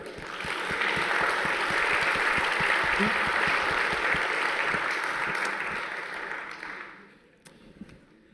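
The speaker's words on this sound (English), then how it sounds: "Big round of applause for English teachers here." A university audience at a speech on excellence claps for English teachers, a dense, steady applause that swells quickly, holds for several seconds, then fades out near the end.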